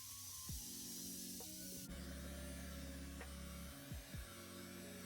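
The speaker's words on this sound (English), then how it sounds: "Another round of setting spray." Makeup setting spray hisses from a bottle in short close bursts, with faint clicks and a quiet room hum behind it.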